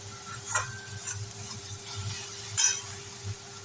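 Potatoes are stirred and fried in a pan over low gas heat, with faint scraping strokes and clinks of a spatula at irregular intervals over a soft steady sizzle.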